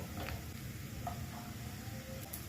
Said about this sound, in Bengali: গ্যাসটাকে হাই ফ্লেমে রেখে দু মিনিট ভেজে নেব পেঁয়াজটা